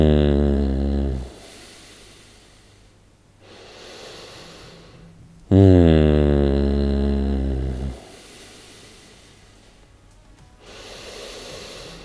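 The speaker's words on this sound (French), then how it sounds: "tu as juste besoin de pousser un son de plaisir à chaque" A man gives two long, loud moaning exhalations a few seconds apart, each voiced and falling in pitch, followed by quieter breathy inhalations between them, close and alone.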